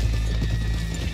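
Hooves clip-clop from horses in the Western game Red Dead Redemption 2, a steady close patter of footfalls over a low rumbling ambience, with no talk.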